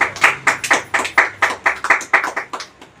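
Brisk, evenly paced hand claps from a small audience welcoming a guest trainer at a business seminar, about a dozen sharp claps close by with no talk.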